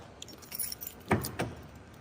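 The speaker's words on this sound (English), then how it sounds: "Grab the keys." A set of car keys for a muscle car fitted with a 512 stroker engine jingles close by in a few quick metallic shakes, with two sharper clinks near the end, quiet and alone.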